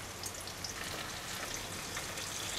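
Steady crackling sizzle of tomatoes frying in a hot pan for dry fish curry, a dense, even hiss without voices.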